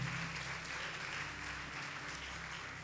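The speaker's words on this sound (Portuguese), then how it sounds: "Você pode aplaudir ao Senhor." Congregation applauding in a church during a sermon, a continuous even wash of clapping from many hands, heard at a moderate distance and fairly faint over a low hum.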